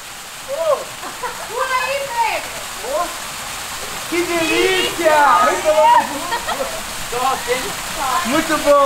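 A cascade pours into a large holiday-house swimming pool with a steady rushing splash of falling water, heard close beneath excited voices talking over it.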